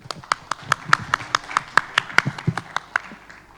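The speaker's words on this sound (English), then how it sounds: "let's give a round of applause to all our sponsors" An event audience claps for the sponsors at a travel trade show: a round of applause of fairly sparse, distinct hand claps at a steady pace, near and moderately loud, lasting several seconds.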